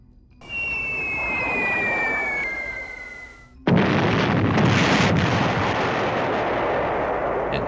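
Bombs from a B-17 Flying Fortress formation explode in a game sound effect: a droning, whistling descent gives way to a sudden heavy blast and a long roaring, rumbling wash, loud and continuous.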